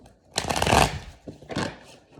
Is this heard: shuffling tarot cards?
yes